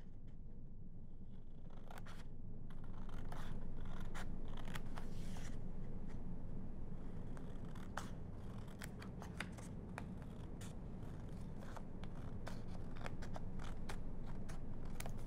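Scissors cut along lines through paper pictures, giving repeated crisp snips and rustling crackles at an uneven pace, close and moderately quiet, continuing throughout.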